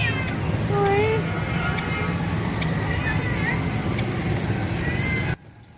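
A cat meows a few times, clear and close, against a busy, noisy background with a person speaking nearby.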